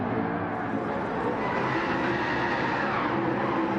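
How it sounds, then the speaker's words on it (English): Racing car spinning its rear tyres at Monza in a racing video game, a steady, loud roar of engine and tyre noise with a faint skidding hiss, no voices. "Look at those, lighting up those rear tyres for us"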